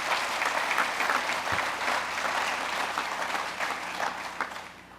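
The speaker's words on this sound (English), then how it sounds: "That's worth applauding." An audience applauds at an event about rocket launch pads on Florida's Space Coast, a dense, even wash of clapping that holds steady and then tapers slightly toward the end.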